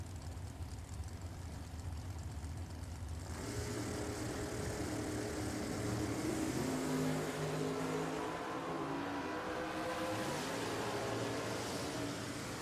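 Drag racing cars roar down the strip at Richmond Dragway, a broad engine rumble that builds and shifts as they accelerate, heard at a moderate distance with steady background din.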